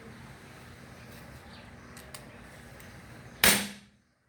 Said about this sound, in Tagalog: Lakas din ang putok